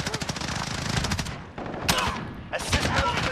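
Rapid automatic gunfire in Modern Warfare, a dense string of close, loud shots in bursts with short pauses between, including a FAMAS rifle in play.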